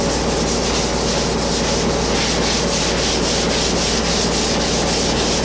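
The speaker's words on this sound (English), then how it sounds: "if you're sanding something that's curved, you know, work a curve into your block so you can get the proper shape" Steady hand sanding with a block shaped to a curve, worked back and forth over a curved car body panel during a repair; a continuous close rasping scrape with a rhythmic stroke pattern, loud and alone with no talk.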